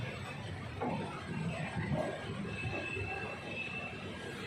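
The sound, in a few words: Udaipur City Express train arriving at Raiwala platform 1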